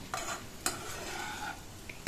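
Sliced okra and potato frying in a pan, a soft continuous sizzle broken by a few sharp scrapes of a spatula stirring against the metal, with no one speaking.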